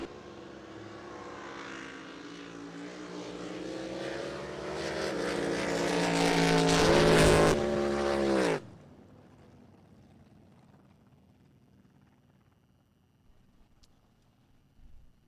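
Drag racing boats launch together and roar past, a swelling, whining engine scream that peaks sharply and then cuts off abruptly, leaving a faint distant rumble from the water.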